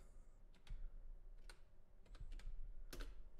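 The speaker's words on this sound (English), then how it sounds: "I'm just going to type in zpool status." Several quiet, scattered keystrokes as a command is typed on a computer keyboard into a software RAID server terminal, soft clicks in a low-level room hum with no talking.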